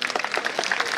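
An audience at a prison event claps together in a brief burst of dense, quick applause, close and fairly loud.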